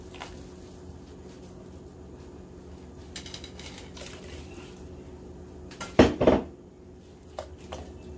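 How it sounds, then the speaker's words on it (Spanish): Chopped carrot, chayote and potato drop into a pot for a Guatemalan hen broth, a couple of sharp clattering knocks against the pot amid quieter kitchen handling and faint liquid sounds. "Le vamos a echar los vegetales. Aquí tengo zanahoria, güisquil y papa."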